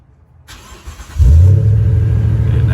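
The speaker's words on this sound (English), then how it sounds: "I'm gonna remote start the truck so that you can kind of see here." A truck engine starts by remote start: a brief crank, then a loud, steady idle rumble close by, with no talking.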